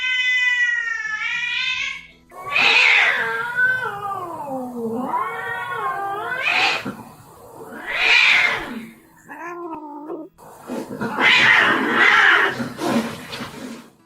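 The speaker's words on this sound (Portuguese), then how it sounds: "Áudio de gato bravo miando com raiva" An angry cat yowls and caterwauls in long, drawn-out wailing meows with rising and falling pitch, loud and close, with brief pauses between the cries and no other sounds.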